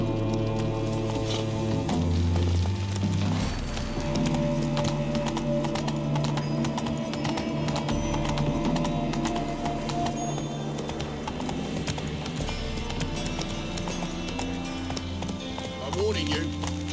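A horse trots in The Witcher 3, its hooves clip-clopping steadily under game music, with an occasional snort and voices talking over it.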